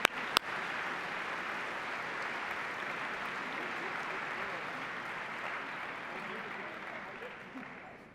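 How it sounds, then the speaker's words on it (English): An audience at the National Science Bowl awards ceremony applauds a team, steady distant clapping that fills the hall for about eight seconds, with a sharp knock at the start. "Let's give him a nice round of applause."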